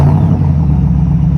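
A 2021 Ford Mustang GT fitted with a Flowmaster axleback exhaust idles and burbles loudly and steadily up close, a deep continuous engine rumble with no talking over it.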